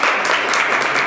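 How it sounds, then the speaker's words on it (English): A brief burst of steady, dense clapping from an audience at a fall humanities symposium panel discussion, loud and continuous for its whole short length. "So I don't know if you can give yourself a clap."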